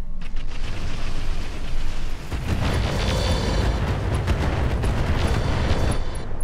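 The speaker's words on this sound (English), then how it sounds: "Has he got mortars? I guess he does." Heavy mortar barrage in the Roguetech BattleTech mech game, a continuous rumbling roar of overlapping booms and explosions, loud and dense, with a sharper impact surge near the middle.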